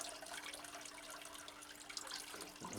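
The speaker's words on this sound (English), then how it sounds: "You can always tell if your medium's right is if the water runs straight through." Water poured through orchid potting medium mixed with charcoal, a steady soft rushing and trickling stream, close and continuous without pause.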